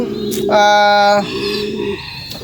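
A close pigeon gives a short, throaty coo, with soft background noise and another bird call faintly behind it.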